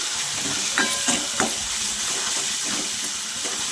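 Turmeric and chili powder roasting in a pan, with a soft steady sizzle broken by a few light scrapes and taps of a spoon, close by and without speech.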